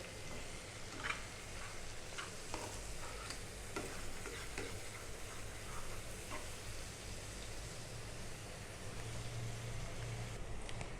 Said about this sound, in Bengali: দেখুন ভাজতে ভাজতে কটকটি করে ফেলেছি